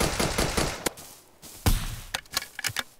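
Gunfire in a browser-based shooting video game: several quick bursts of sharp shots, rapid clusters with brief gaps and scattered single cracks, loud and close.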